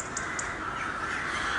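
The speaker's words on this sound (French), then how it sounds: "Les choucas des tours." Two quick, sharp jackdaw calls ring out early against a steady hiss of outdoor ambience, then the air goes quiet apart from the background.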